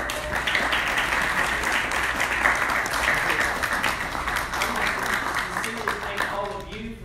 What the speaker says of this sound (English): Please just give them one more round of applause.